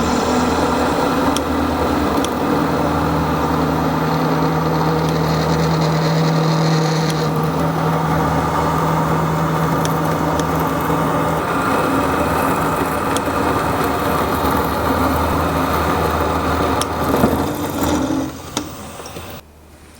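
End mill on a milling machine cutting a slot at half depth in a T-slot faceplate: a steady, loud, continuous grinding whir with a faint high whine, holding evenly before tapering off near the end.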